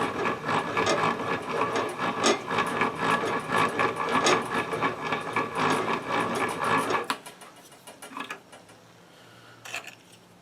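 Metal squares hanging from a magnet strip rattle in a busy, continuous clatter over a running machine, then the noise drops away to near quiet with a brief late rattle.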